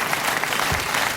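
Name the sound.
studio audience applause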